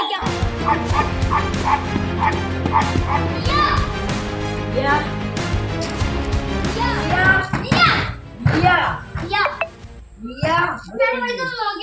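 Dog barks and yips mixed with children's voices and chatter in a domestic setting, the barks sharp and close, recurring through the first half before high-pitched calls and talk dominate.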